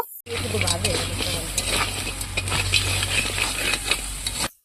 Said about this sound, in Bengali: কাঁকড়া মাছের সঙ্গেও মশলাটা ভালো করে মিশিয়ে নেব